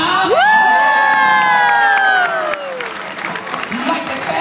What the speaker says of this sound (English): You got everybody clap for you?